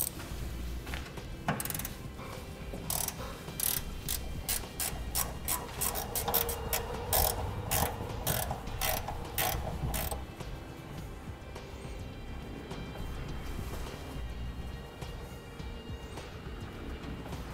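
A ratchet backing out the two bolts that hold a heat shield on top of the frame rail of a 2016 Chevrolet Silverado 2500 pickup, rapid clicking bursts up close with metallic scraping and pauses between them.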